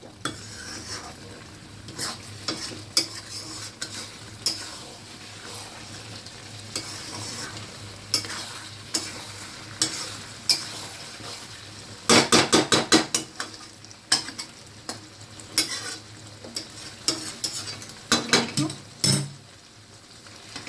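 A spiced mixture fries in oil in a pan, sizzling steadily while a spoon scrapes and clinks against the metal in bursts of brisk stirring, loudest near the middle and end.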